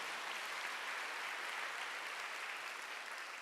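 A congregation at a Korean church Wednesday worship service bursts into sustained applause, a dense, steady wash of many hands clapping at even loudness throughout with no voices breaking through.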